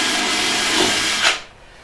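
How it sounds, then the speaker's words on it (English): A power drill runs at high speed, boring a pilot hole into a fiberglass boat for a rod holder; the whine is loud and steady close up, then stops abruptly, leaving quiet room tone. "I can drill in about 3/8 of an inch and get that set there."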